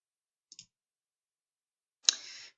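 Two sharp computer mouse clicks, a faint double click near the start and a louder click with a brief ringing tail about a second and a half later, in an otherwise silent room.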